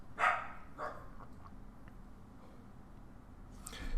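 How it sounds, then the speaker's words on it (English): A dog barks in the background during a poker stream, a couple of faint distant barks early on followed by quiet room tone and a soft noise near the end. "I don't know if you could hear it, but she was barking in the background."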